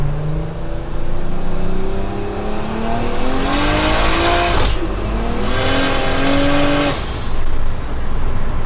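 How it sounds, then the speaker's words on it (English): A loud 600 hp 1JZ-swapped big-turbo Toyota Hilux engine revs hard through rising gears, pitch climbing and dropping at each shift, with a sharp hiss from the external wastegate, heard from inside the cabin with a 4-inch exhaust. "It's quite loud in this cabin with the 4-inch exhaust and the external wastegate"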